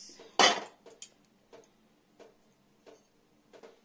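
Roasted spices are poured onto a sil nora grinding stone in a home kitchen, giving one sharp rattling scatter of grains followed by a few faint, sparse ticks and taps as they settle.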